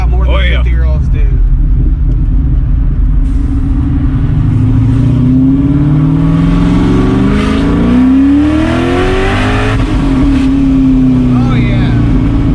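A car on Toyo Proxes R888R tires revs hard and accelerates, its engine rumbling loudly from inside the cabin, pitch climbing through gear changes and dropping between shifts, with a voice talking over it.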